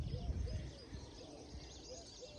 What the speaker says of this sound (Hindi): पंछियों की आवाज़ आ रही है बड़ी अच्छी